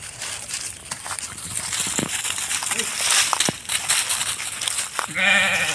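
Garol sheep bleat in a livestock pen, with one clear, loud bleat near the end over background noise and a few shorter sounds earlier.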